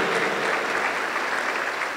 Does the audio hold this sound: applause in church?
yes